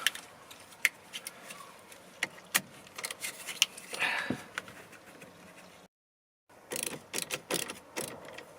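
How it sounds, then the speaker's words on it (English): A ratchet tightens the battery cable on the auxiliary battery of a 2013 Toyota Prius, giving close, scattered metallic clicks and brief taps with a short gap of silence partway through. "I almost just touched my ratchet down to the metal body part"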